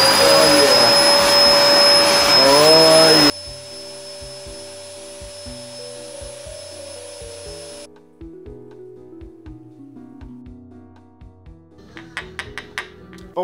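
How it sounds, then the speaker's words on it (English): A loud vacuum cleaner roars steadily for about three seconds, then cuts off, leaving a quieter motor whine and scattered knocks and clatter that continue at a lower level. "I need that shit vacuum cleaner."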